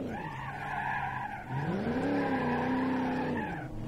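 A car skidding and spinning out in the BeamNG.drive driving game, a loud continuous tire screech over a revving engine that bends in pitch as it turns, lasting nearly four seconds before cutting off.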